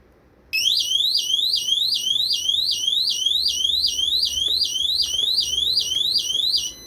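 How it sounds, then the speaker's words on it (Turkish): A loud electronic security alarm system starts abruptly and wails in rapid repeating rising sweeps, continuous until the end. "Alarm çalıştı. Direkt çalmaya başladı."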